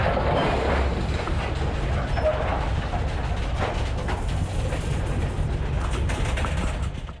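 A freight train carrying grain rumbles past steadily, with continuous rolling noise and faint rhythmic wheel clatter, fairly loud and sustained for several seconds.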